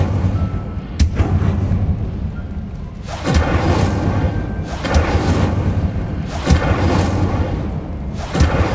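An Incendio fire spell cast in Hogwarts Legacy, heard as repeated deep booming bursts and whooshing blasts in a loud rhythmic series of about five impacts with no talking.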